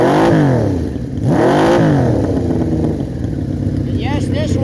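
First production six-cylinder motorcycle engine running loud and close, revving up and down in repeated rising and falling sweeps over a rough, throbbing idle, with a voice speaking over it.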